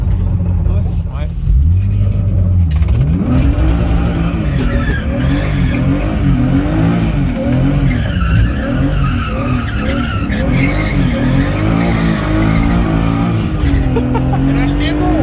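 A BMW E36 drift car makes a handbrake turn on asphalt, its engine revving hard and loud with sustained tire screech throughout, close by; people talk over it.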